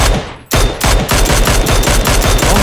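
A player's automatic weapon in a shooter game fires loud, rapid bursts, a brief first volley, then a pause and a steady run of evenly spaced shots close up.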